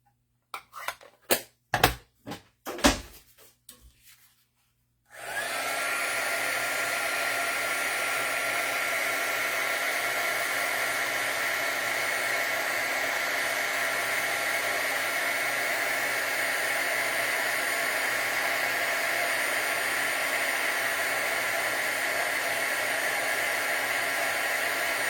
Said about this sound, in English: now I'm going to quickly use my heat gun again